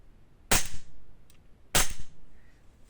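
A Sig Sauer P320 PRO Wilson Combat custom gas airsoft pistol fires two sharp, loud, crisp shots a little over a second apart, with quiet room tone between them and no voices.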